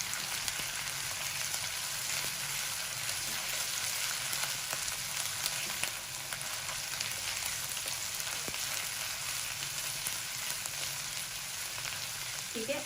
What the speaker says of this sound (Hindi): 1 मिनट के लिए हम इसे भूनेंगे अदरक लहसुन के साथ